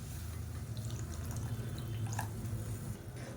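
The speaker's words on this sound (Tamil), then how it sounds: "இன்னும் கொஞ்சம் தண்ணி சேர்த்துக்கலாம்." Quiet trickle and splash of water pouring into a cooking pot for a side dish, over a low hum, with small drips and clinks near the end.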